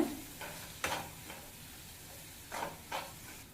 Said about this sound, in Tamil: ஒரு டீஸ்பூன் ஜீரகத்தூள் அரை டீஸ்பூன் மிளகுத்தூள் சேர்த்துட்டு அந்த மசாலாவோட பச்சை ஸ்மெல் போக ஒரு நிமிஷம் வதக்கி விட்டுக்கோங்க